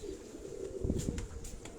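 Pigeons cooing on a Karachi rooftop loft, soft low burbling coos repeating close by under steady wind noise, with a few faint higher chirps.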